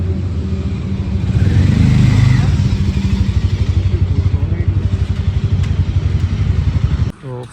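A Harley-Davidson motorcycle setting off on a ride, its engine rising into a loud, steady, pulsing rumble heard close up, then cutting off abruptly near the end.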